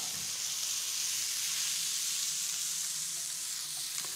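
Bacon burgers sizzle steadily in a hot cast iron pan, a loud, even frying hiss that holds without a break.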